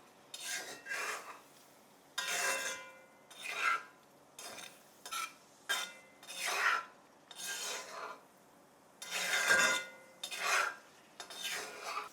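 Butter garlic chicken ingredients being stirred and mixed in a pan or bowl, rhythmic scraping strokes in separate bursts with short pauses between, close and clear without any talking.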